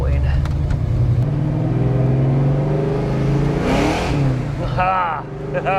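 Foxbody Mustang V8 fitted with Holley Terminator X fuel injection, idling with a deep rumble before the engine revs up, and someone talks over it.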